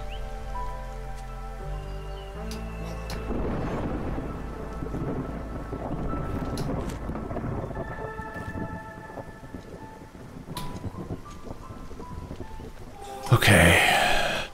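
Thunderstorm ambience from the video game Against the Storm: steady rain washing over a low rumble of thunder, with a sudden loud burst of thunder near the end, sustained and close throughout with no talk.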